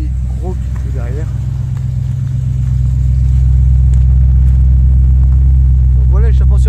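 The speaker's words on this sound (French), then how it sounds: "Donc voilà l'échappement sur un sprint hein." Loud, steady exhaust rumble from a BMW M3 E92 engine, a deep drone that swells as it revs, with brief voices audible over the roar.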